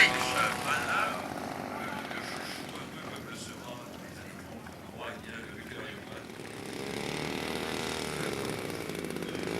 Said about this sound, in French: Super le glissade de Gerhard Reich sur la droite avec l'Albatros D5.